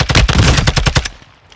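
Rapid automatic gunfire in the shooter Warzone, a close, loud burst of about a dozen evenly spaced shots lasting roughly a second before cutting off.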